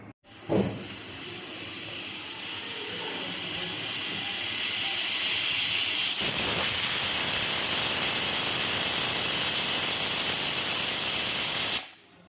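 A pressure cooker lets off steam in a loud, harsh hiss that swells steadily for about eleven seconds, then cuts off abruptly.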